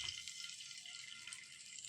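Water poured into squeezed lemon juice while making lemon rice, a brief steady hiss of pouring liquid, soft and close, with no talk.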